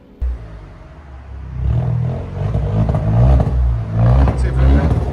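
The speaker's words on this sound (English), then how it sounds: "Let's see if the sound decibels got up louder. Again, just rev it." A 2019 Alfa Romeo Giulia with a 2.0L turbo engine and a modified exhaust revs up loud and close. The rumbling exhaust swells and builds in repeated pulls, and a voice is heard over it.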